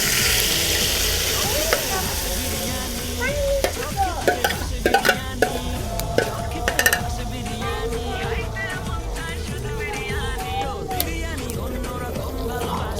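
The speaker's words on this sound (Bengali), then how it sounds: "তেলটা গরম হয়ে গেছে, মাংসগুলো ঢেলে দেব।" Beef poured into hot oil in a pot for beef tehari, loud continuous sizzling and frying with clattering stirs and bubbling throughout, close up, no talk over it.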